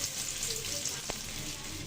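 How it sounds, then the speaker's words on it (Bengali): Cauliflower pakoras dropped into hot oil in a pan sizzle with a steady, close crackling hiss, broken by one brief sharp pop near the middle. "পাকোড়াগুলো ভাজার জন্য প্যানে তেল গরম করে নিয়েছি। এখন পাকোড়াগুলো ছেড়ে দিব।"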